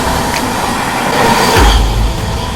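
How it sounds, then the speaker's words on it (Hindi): The Sampoorn Kranti Express runs at about 130 km/h, a loud, close, continuous roar of wheels and rushing air with a heavy low rumble swelling briefly near the end. "अपनी अभी संपूर्ण क्रांति फ्लैट 130 किलोमीटर प्रति घंटे की रफ्तार में क्या ताबड़तोड़ भाग रहे"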